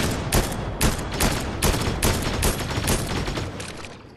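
Rapid bursts of gunfire in the Fortnite video game, a dense run of loud sharp shots in quick succession, tapering slightly toward the end.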